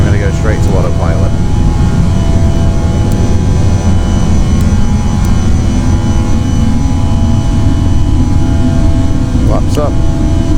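Airbus airliner taking off in the Prepar3D flight simulator, bound for Honolulu: a steady, loud jet engine roar with low rumble runs throughout, with brief voice fragments over it.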